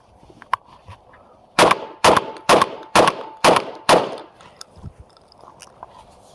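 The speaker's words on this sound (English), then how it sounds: "So I'm going to be able to just pull the trigger and shoot." A semi-automatic shotgun fires six quick, loud blasts in an even rhythm, each with a sharp crack and short ring, set apart from quieter handling sounds before and after.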